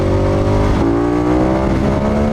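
A KTM 1290 Super Adventure S motorcycle engine pulls hard in fourth gear, its revving tone climbing steadily and loud up close, with a brief gear-like dip midway and wind rush behind it.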